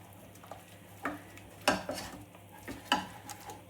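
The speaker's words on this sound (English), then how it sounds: "Stir, stir, stir till it comes back into the centre of the pan." A spoon stirs milk into a thick dough sauce in a pan, producing a handful of irregular scraping strokes and soft knocks against the pan over a quiet background.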